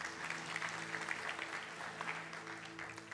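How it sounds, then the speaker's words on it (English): An audience applauds a pianist, a faint, continuous wash of clapping that stays low and even throughout over a steady background hum. "give him a big round of applause"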